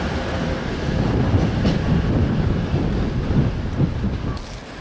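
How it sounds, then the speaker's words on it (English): A high-speed train rushes past close by with a loud, sustained rumbling roar and rhythmic clatter of wheels on rails, easing slightly as it moves away. "Hence the joys of high-speed rail."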